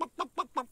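Hens cluck in a cartoon farmyard, four quick, evenly spaced clucks close by, with no voices over them.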